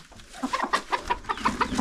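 A rooster and hens let out of their coop cluck in a steady run of short, close calls, several birds overlapping, with no talk.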